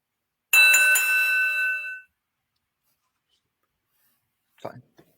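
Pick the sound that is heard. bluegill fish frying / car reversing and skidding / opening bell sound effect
opening bell sound effect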